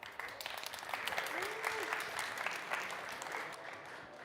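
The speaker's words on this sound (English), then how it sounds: "So round of applause." Audience applause at a tech startup pitch stage in Riga, steady dense clapping for several seconds, moderately distant, with faint voices underneath.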